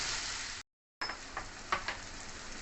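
Tomatoes and cashews are stirred into frying onion, ginger and garlic for paneer butter masala, making a steady close sizzle with soft spoon scrapes, broken briefly by a moment of total silence.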